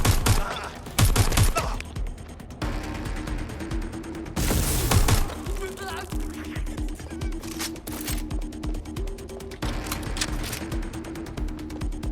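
Gunfire from the video game Watch Dogs Legion: rapid bursts of shots and loud impacts repeat across the clip over a steady game music bed, with a few sharp heavier blasts standing out.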